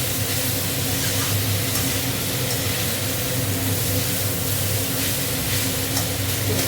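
Chopped banana stem with turmeric fries in a hot pan, a loud, dense, unbroken sizzle and hiss that holds steady throughout, close to the listener, with no voices.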